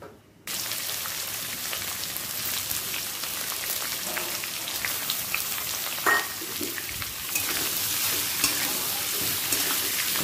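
Onions sizzle in hot oil with bay leaves, dried red chilli and garam masala, a dense, rain-like hiss that starts abruptly and holds steady for about ten seconds, close-up, with a few brief stirring scrapes and no speech.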